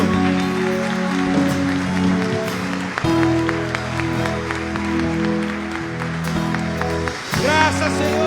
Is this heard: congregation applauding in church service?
yes